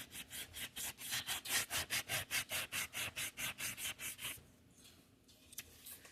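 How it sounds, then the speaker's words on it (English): Rapid, rhythmic back-and-forth rasping of sandpaper on a block, about twenty quick strokes, then it stops, leaving quiet handling noise. "This is just a block, a sanding block. I use sandpaper."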